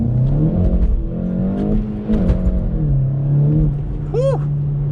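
Manual VW Golf GTI with a track exhaust accelerating in second gear, a close loud engine rising in pitch and dipping at a shift, then a sharp whistling surge near the end.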